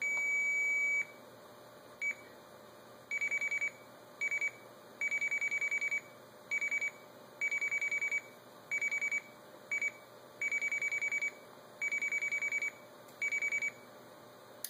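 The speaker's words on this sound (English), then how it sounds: "an AC9 dial pulse sequence, again a UK dial pulse system with the clear forward and the seizure at the beginning" An Arduino blue box plays an AC9 UK dial pulse signalling sequence: a long steady tone for the seizure, then a series of clean, evenly pitched tone bursts of varying length separated by short gaps, over a faint electronic hiss.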